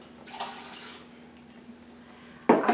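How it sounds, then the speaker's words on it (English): Half a cup of water pours into an Instant Pot holding bone-in chicken breasts, a faint, brief splashing trickle near the start, followed by a short, louder knock or clatter at the end. "And I'm going to add a ½ cup water"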